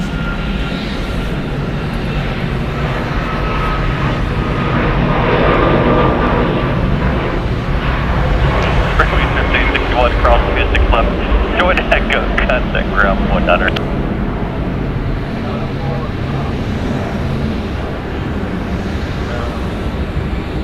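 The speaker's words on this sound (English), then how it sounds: "Alaska Airlines Flight 493 going to Seattle. It's a Boeing 737 MAX 9." A brand-new Alaska Airlines Boeing 737 MAX 9 jet at Atlanta Hartsfield-Jackson airport, its broad engine roar steady and loud throughout, with a person talking over it.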